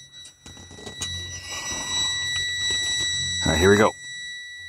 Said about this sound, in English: Sorry about the buzzer, guys. But I can't do nothing about it because she's low on air.